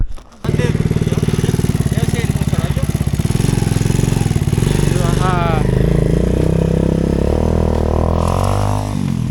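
A motorcycle engine starts and runs steadily close by, with a brief rev near the end and people talking over it.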